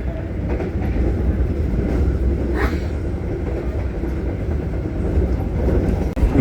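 Passenger train on the Gunung line between Haurgeulis and Cirebon, heard from inside as a continuous loud rumble of wheels on rails with rhythmic clatter and a brief squeal midway.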